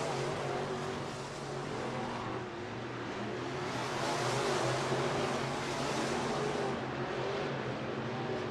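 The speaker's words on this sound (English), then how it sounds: "Possibly looking to take third away from Gester in the car number 14." Race cars roar around 141 Speedway during the Clash at the Creek XVI event, a dense, steady wall of engine noise from several cars swelling and fading slightly as they circle the track, with no talk.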